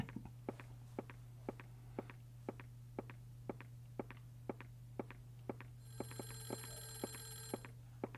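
A telephone rings in the video game Clock Tower: The First Fear, a faint, regular string of short clicking pulses over a constant low hum, joined near the end by a brighter, sustained ringing tone.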